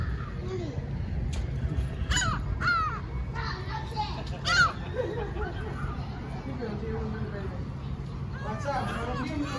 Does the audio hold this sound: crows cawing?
yes